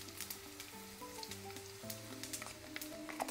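Dried red chilies frying in hot oil with asafoetida added, a steady close sizzle crackling throughout, with soft background music playing underneath.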